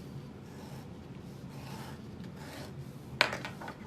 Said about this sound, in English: This tool is just a little X-Acto knife, and I'm just barely scraping it along the Decaville